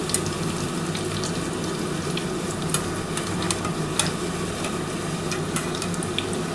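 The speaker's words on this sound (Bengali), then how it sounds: "প্রথমে এক পিঠ আমি ভেজে নিচ্ছি" Bengali egg chops (dimer chop) frying in hot oil, giving a steady dense sizzle with small crackles and pops throughout. No one speaks.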